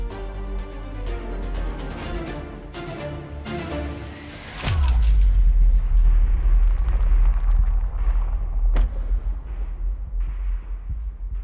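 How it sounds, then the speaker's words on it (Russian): Artillery cannon fire on buildings during the Russian Revolution: a heavy boom followed by a long, deep rumbling roar, with music playing before it and another sharp blast later. "Из Петропавловской крепости привезли пушки и открыли огонь по"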